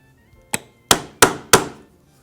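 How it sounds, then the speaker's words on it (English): Stitching holes are punched through leather for a custom hunting knife sheath: four sharp, ringing hammer blows on the punch. One lighter tap comes first, then the strikes fall in a quick, steady rhythm, close up. "I'll first punch several holes across, as you see here."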